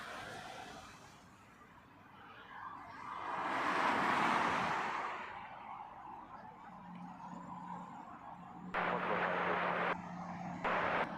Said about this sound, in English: This one, Air China Flight 423, inbound from Chengdu on an A330-300.